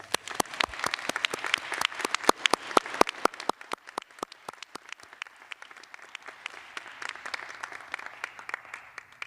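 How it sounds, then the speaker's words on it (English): Graduates at a Weber State University spring 2021 convocation for Bachelor of Integrated Studies get a round of audience applause: dense clapping that starts strong, then thins into scattered claps toward the end, moderately distant in a large hall. "Let's give our graduates another round of applause"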